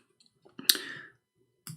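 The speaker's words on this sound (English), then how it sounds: "I will type that" A few quiet keystrokes on a computer keyboard, two or three separate short clicking bursts with near silence between them.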